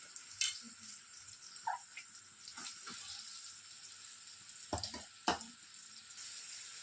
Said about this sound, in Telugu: ఇప్పుడు మిగిలినటువంటి ఆయిల్లో నేను కట్ చేసి పెట్టుకున్నటువంటి 2 మీడియం సైజ్ ఆనియన్స్ని వేసేసుకుంటున్నాను